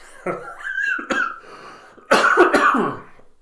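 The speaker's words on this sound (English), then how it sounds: "I'm coughing" Raspy, drawn-out coughing close up, a strained wheezy stretch followed by a louder burst of harsh coughs.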